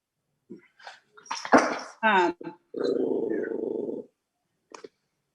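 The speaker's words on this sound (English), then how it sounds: "Dog is growling." A real dog growls with a rough, low, sustained rumble lasting about a second and a half, set between stretches of people talking in a room.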